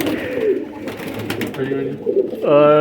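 Pigeons of old pedigree lines coo and call in a loft, with overlapping bird sounds and possible voices in the background, ending in a louder sustained call.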